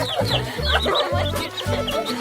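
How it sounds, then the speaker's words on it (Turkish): Small, fluffy chicks cluck and cheep close by in short repeated bursts, with soft rustling underneath and no talking. "Bakın bunlar gerçek tavuklar."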